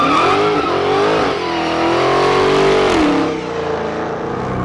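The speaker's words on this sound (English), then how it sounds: "Oh, we should warm up the tires with a line lock first." A 2021 Dodge Charger SRT Hellcat Redeye Widebody doing a line-lock burnout to warm its tires: a loud, sustained engine roar that climbs and wavers in pitch, then eases off near the end.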